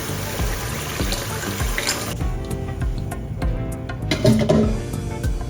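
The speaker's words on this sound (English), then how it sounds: "I am washing all the vegetables needed for this jambalaya." Vegetables for chicken and sausage jambalaya rinsed under a running kitchen tap, a continuous splashing water stream with handling clatter and a brief louder gush near the end, close, no talking.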